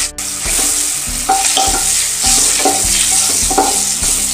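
Green chillies and turmeric powder fry in cooking oil in a pan for a raw mango sweet-spicy dish, giving a steady loud sizzle throughout with repeated scraping stir strokes roughly every second; no one speaks.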